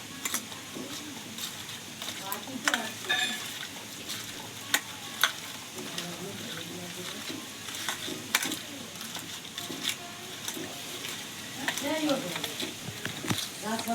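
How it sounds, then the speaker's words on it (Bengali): Continuous crackling sizzle of potato and papaya frying in a hot karai, with occasional sharp pops and a stirring scrape now and then. "ততক্ষণ আমার এদিকে আলু পেঁপে ভাজা হয়ে যাবে"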